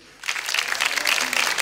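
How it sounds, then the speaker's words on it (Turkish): Studio audience at a live Turkish folk music TV show breaking into applause, a dense steady clapping that starts abruptly and holds loud and even throughout. "Alkışlarınızı bizler için istiyoruz."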